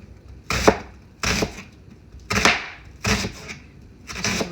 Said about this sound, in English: we're going with the onion, and then we'll chop up that